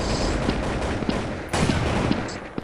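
Gunshots in a shooter video game: loud, dense gunfire over a constant noisy backdrop, with a sharp blast about halfway and a few more cracks near the end.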